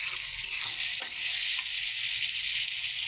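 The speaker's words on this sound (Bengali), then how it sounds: "শোল মাছটা রান্নার জন্য মশলাগুলো আমি কষিয়ে নিচ্ছি।" Spices sautéing in hot oil in a pan for a snakehead fish curry, with fried potatoes nearby, make a loud, close, continuous hissing sizzle with a few faint stirring scrapes, and there is no speech.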